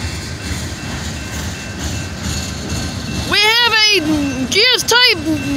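Train rolling past a road crossing at Wade Highway where the crossing was malfunctioning, a continuous rumbling clatter of railcars with voices talking excitedly over it near the end.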